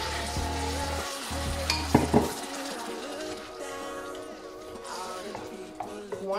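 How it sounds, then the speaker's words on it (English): Tomato dropped into a hot pan for a home-cooked meal, giving a close sizzle and frying hiss with a few utensil clinks and stirring noises, while faint music plays underneath. "Add your tomato."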